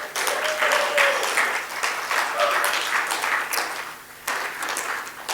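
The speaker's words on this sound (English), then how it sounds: "Would you kindly give a round of applause to all of those folks?" Dinner guests at an awards gala applaud steadily for about five seconds, with crowd noise and a few voices mixed into the clapping.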